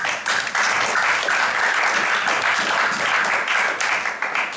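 Warm, continuous applause fills a conference hall during a talk on vegan children and sport, a crowd clapping evenly and loudly throughout with no break.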